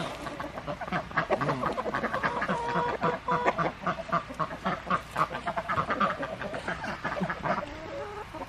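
Ducks quacking busily nearby, overlapping calls in quick bursts mixed with clucking fowl, loud and continuous.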